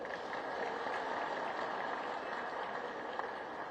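A crowd at a political speech event claps steadily to welcome a speaker, a dense, even wash of applause that holds at a constant level throughout with no voices over it.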